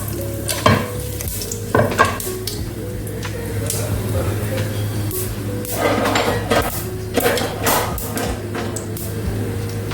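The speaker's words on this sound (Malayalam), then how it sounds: "അപ്പം എന്തായാലും നല്ലപോലെ കടുക് പൊട്ടുന്നുണ്ട്" Mustard seeds splutter and crackle in hot oil with fenugreek and dried red chilies, a steady sizzle broken by sharp pops and the scrape of a stirring spoon against the pan.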